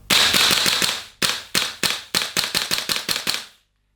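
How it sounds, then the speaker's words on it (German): Rapid mechanical snaps of a VFC HK416A5 airsoft gas blowback rifle dry firing: a fast burst of clacks, a pause, then a quicker string of sharp clicks ending abruptly. "Und wenn ich jetzt mal ein bisschen Dry Fire mache"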